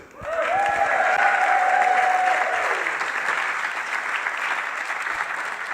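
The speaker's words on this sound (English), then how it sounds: "can you please take the roof off and give a huge cheer for Matt Homewood?" A comedy club audience bursts into loud, sustained applause with some cheering and whooping, starting abruptly and holding steady before gradually thinning out.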